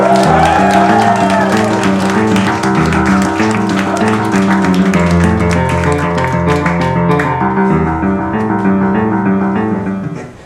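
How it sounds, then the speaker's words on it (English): A stand-up comedy show audience in Newcastle applauds and cheers a comedian coming on stage, with loud sustained clapping and whoops over music that fades out at the end. "if you don't give him applause for his comedy, give him applause for the shirt"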